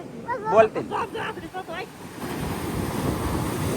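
A person talks briefly near the start, then a steady wash of surf and wind takes over as waves roll onto the shore.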